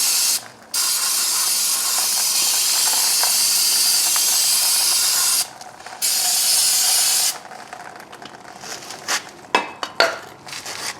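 Brake cleaner sprays in long, loud, close hissing bursts onto front brake parts of a 2016 Nissan Rogue, with short pauses between blasts, followed by quieter clinks and handling sounds.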